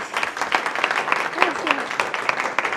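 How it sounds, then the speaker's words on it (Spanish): Audience clapping at the close of a talk on copyright and audiovisual contracting, a sustained round of close, crisp applause throughout. "Un aplauso, por favor."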